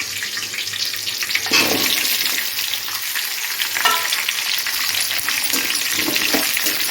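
Raw mango pieces, green and dried red chilies and curry leaves are sautéed in hot oil for a mango pachadi. Close, steady sizzling runs throughout, broken by bursts of spatula scraping and stirring against the pan.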